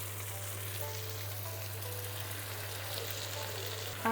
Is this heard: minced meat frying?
yes